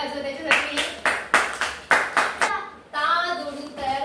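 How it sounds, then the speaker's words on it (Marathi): A class of children in a Marathi grammar lesson in Bilewadi claps in praise of a classmate. About eight sharp, evenly spaced rhythmic claps ring out close by, followed by children's voices. "टाळ्या वाजवा त्याच्यासाठी."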